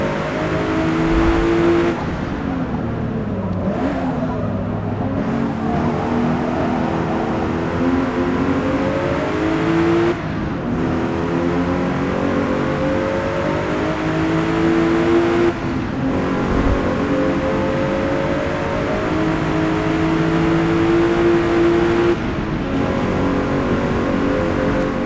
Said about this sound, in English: I'm going to let Tyler drive for a little bit here so you can kind of see the 4K 60 visuals and all of our remastered audio.